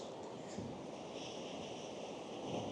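Sea waves on the North East coast break into white water along the shore, giving a soft, continuous distant wash of surf mixed with faint wind, low in level and without talk.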